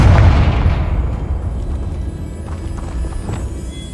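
A Confringo blasting spell explodes in the Hogwarts Legacy game: one loud, deep boom at the start, then a rumbling decay with a few faint thuds and crackles trailing off.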